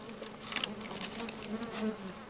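Bees buzz densely around a hive broken into by a honey badger, a close, continuous droning hum with individual insects passing near.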